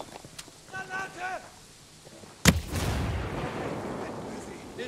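A grenade blast in the shooter game Tom Clancy's Ghost Recon Breakpoint hits with a sharp, loud crack midway, then a rumbling debris tail. Voices talk just before it.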